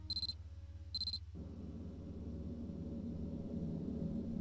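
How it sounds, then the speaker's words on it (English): In the Corpse Party video game, a phone alarm gives two short, bright electronic beeps about a second apart. A steady low hum runs underneath, then a louder rumbling drone takes over once the beeping stops. "The alarm on my phone sounded as if in answer."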